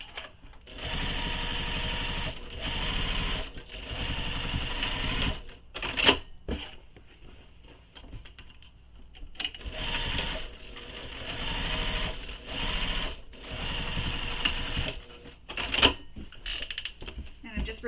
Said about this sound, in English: So we're going to stitch the sides of the pocket.